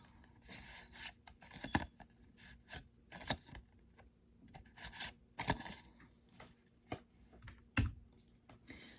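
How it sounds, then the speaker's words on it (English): Paper note cards being handled: soft rustling, rubbing and crisp flicks in short irregular bursts, close but quiet, with no talking. "Here are my note cards."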